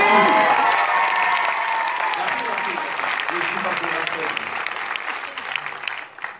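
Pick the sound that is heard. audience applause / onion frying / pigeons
audience applause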